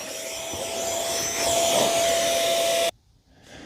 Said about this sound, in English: I really do like this little handheld vacuum cleaner.